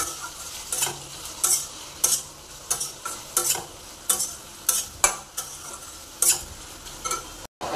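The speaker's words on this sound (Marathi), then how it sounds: "सगळं फ्राय करून घ्यायचं" Large tomato chunks fry in a pan for butter chicken, a constant sizzle under repeated rhythmic stirring strokes and scrapes of a spoon, close and clear, with no voices.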